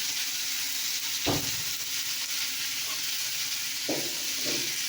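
Food frying and being stirred in a pan, with a continuous close sizzle and a few distinct scraping stir strokes breaking through it.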